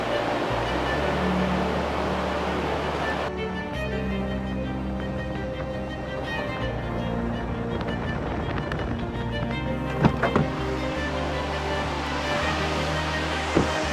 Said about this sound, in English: So this is Horsetail Falls.